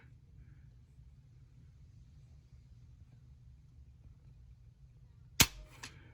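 A Timney PCC upgrade trigger is pulled once, giving a single sharp close click near the end, after several seconds of quiet low hum.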